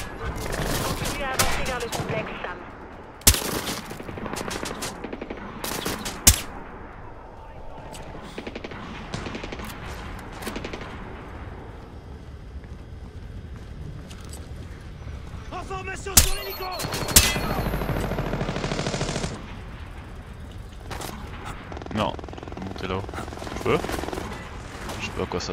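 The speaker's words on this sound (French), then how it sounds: "On entend des tirs d'armes légères dans le terminal, Sam." Small-arms gunfire in the stealth video game Splinter Cell Blacklist, with scattered loud shots and rattling bursts across a busy game soundscape while voices talk over the action.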